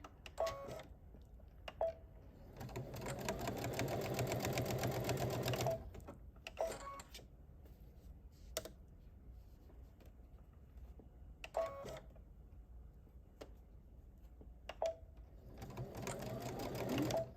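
Sewing machine stitching a back stitch during a ScanNCut quilting project, quiet rapid whirring bursts of needle strokes separated by pauses, sharp clicks and handling noises, all faint and close with no talk.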